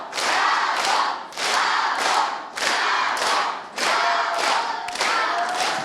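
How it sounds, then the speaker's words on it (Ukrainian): Audience at a summer camp theatre show breaks into rhythmic, surging applause in repeated waves, loud and close, with cheering mixed in after the performance. "професійну гру акторів табору оцінили бурхливими оплесками та вигуками Браво"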